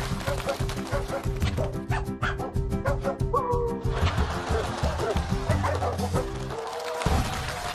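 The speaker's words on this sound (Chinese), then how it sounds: "15只哈士奇" A group of fifteen huskies on a TV challenge show, several dogs barking, yipping and whining in quick bursts close by, with people talking and other noises mixed in.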